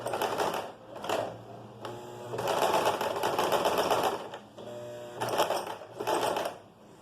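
A sewing machine stitches a pleated skirt seam, backstitching at the start, loud close bursts of rapid stitching broken by short pauses.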